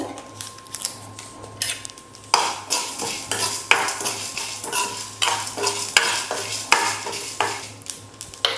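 Spices and a bay leaf dry roasting in a pan for a chapathi side dish, stirred with repeated scraping and clattering strokes of a utensil against the metal, close and fairly loud.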